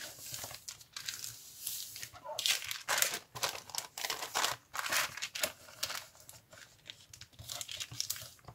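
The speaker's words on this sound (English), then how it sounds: "then you can fold it inwards" Tracing paper bag being folded and crinkled by hand, giving close, repeated crackling bursts with short pauses between them.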